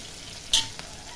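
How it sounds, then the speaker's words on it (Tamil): Onions sauté in a pan for mutton gravy with a soft, steady sizzle. Partway through comes one brief, sharp scrape as the pan is stirred, then a faint second touch. "அதனால் வெங்காயம் இந்த மாதிரி வதங்கணும்."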